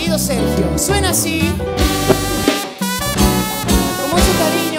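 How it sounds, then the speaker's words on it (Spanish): Live band music at a wedding reception with trumpet featured, loud and continuous with dense harmonic tones, steady rhythm and brief dips, no talking over it. "Ha llegado el momento más especial y quiero presentar en la trompeta"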